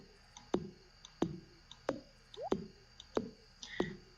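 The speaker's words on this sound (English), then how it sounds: "And that's one of our furnaces finishing." Furnace finishing a smelting job in Stardew Valley, heard as a series of about six soft, evenly spaced clicking plops over a quiet background.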